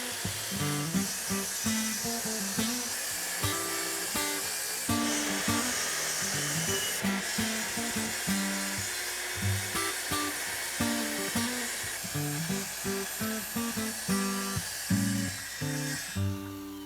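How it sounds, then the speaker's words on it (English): A power saw cuts through plywood laid over a work surface, with a loud, continuous buzzing whine broken by repeated rhythmic pulses as the blade bites into the sheet. "The saw blade is adjusted so that it cuts through the plywood, but not into the work surface below."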